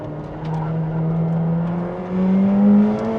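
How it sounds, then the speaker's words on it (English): McLaren 765LT engine roaring through its four exhaust pipes, a loud, raucous, rising drone that climbs steadily in pitch as the car accelerates, heard close with no talk. "it's just got that raucous tone coming out of those 4 exhaust pipes, just in your face, screaming out the back of this car"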